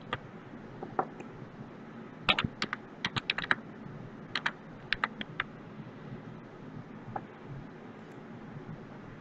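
Typing on a computer keyboard at a command prompt, with quick clusters of crisp key clicks separated by short pauses, close and fairly quiet, with no talking.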